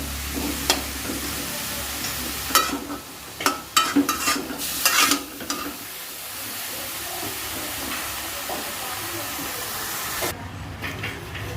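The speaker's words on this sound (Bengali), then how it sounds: "আমি এটাকে বেশ ভালো করে একটুখানি হালকা ভাজা ভাজা করে নেব" Coconut mixture being stirred and lightly fried in a pan, with a steady soft sizzle and hiss and sharper scraping bursts from the stirring in the middle, close and moderately loud, no talk.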